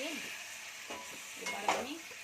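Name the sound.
biryani spice masala and chicken being fried and stirred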